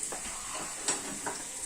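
Onions fry in a pan with a faint, steady sizzle and a few soft crackles and stirring clicks, heard alone without talk.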